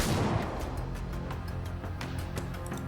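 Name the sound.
explosions and shockwaves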